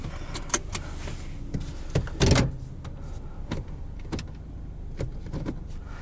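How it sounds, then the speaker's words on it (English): Power window motor on the driver's side of a 2017 Hyundai Accent Sport, a short whirring hum of about two seconds with a firm stop at the end, heard close inside the cabin among faint scattered clicks. "Driver's side window is automatic."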